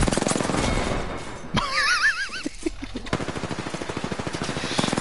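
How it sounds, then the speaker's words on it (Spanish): Rapid bursts of automatic gunfire rattle in Overwatch gameplay, broken by a brief warbling whinny-like tone, then resuming as fast repeated shots close up. "Mira esos tiros tan feos del Andrew"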